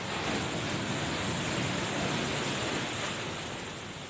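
Surf from typhoon flooding in the Philippines, driven by the southwest monsoon, roars in as a dense, steady wash of breaking waves with wind noise, loud and continuous before easing slightly at the end.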